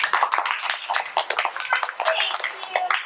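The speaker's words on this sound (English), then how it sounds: "we'll give you a nice big hand of applause for all your patriotic handwork" Audience at a Lutheran school performance clapping, a dense, steady patter of many hands that holds for several seconds.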